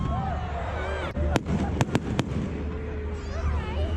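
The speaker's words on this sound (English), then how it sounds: "Oh, fireworks, is it?" Several sharp firework bangs go off in quick succession over a noisy crowd, with people chatting nearby.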